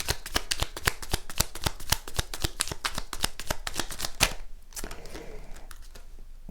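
Oracle cards riffle-shuffled by hand, a quick run of sharp, close flicking snaps for about four seconds, then a few softer rustles and taps.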